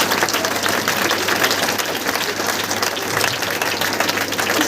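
An audience at an indoor training seminar breaks into loud, sustained applause, dense clapping filling the whole stretch with no talk over it.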